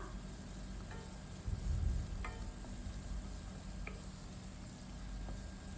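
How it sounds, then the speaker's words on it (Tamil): Potatoes are sautéed in a pan for wheat rava upma, giving a soft, steady frying sizzle with a few faint stirring clinks and scrapes, fairly quiet throughout. "அடுத்து உருளைக்கிழங்கு சேர்த்துட்டு எல்லாத்தையும் நல்லா வதக்கிக்கோங்க."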